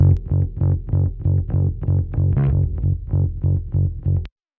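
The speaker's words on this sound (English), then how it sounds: "Bring in the SoniQ." Bass guitar run through SansAmp and SoniQ Pro plugins in a mix of a song, playing a steady run of about a dozen evenly spaced, punchy repeated notes, loud and alone, ending abruptly.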